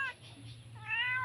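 A cat meows close by outdoors in a rural Philippine yard, two drawn-out meows with a short gap between them, clear over a steady low hum.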